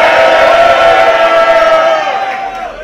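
Crowd at a live rap battle cheering and shouting, a dense, loud wash of voices that swells steadily and then begins to fade.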